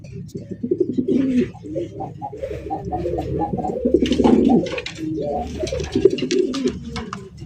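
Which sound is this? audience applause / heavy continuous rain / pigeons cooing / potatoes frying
pigeons cooing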